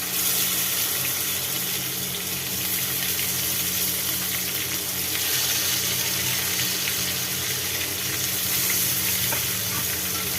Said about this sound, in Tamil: இப்போ இதை நல்லா எண்ணெயில் இந்த கத்திரிக்காய் ஃப்ரை ஆகணும்.